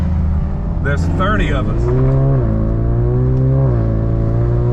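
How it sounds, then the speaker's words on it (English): A Ford EcoBoost Mustang drives in a group of about 30 cars on the winding Devil's Triangle road, its engine droning loud and close with shifting pitch as it accelerates; someone talks briefly over it. "I am in an EcoBoost Mustang."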